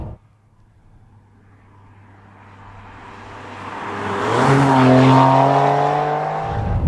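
A Ferrari 612 Scaglietti HGTS V12 builds from a low drone into a loud, rising engine roar as the car accelerates on an open road, with strong climbing harmonics and tire and wind rush, no talk.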